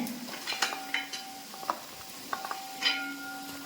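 Fish pieces fry in sesame oil for a Kerala fish pickle, with soft sizzling under repeated clinks and scrapes of a metal ladle stirring and scooping, fairly quiet and close.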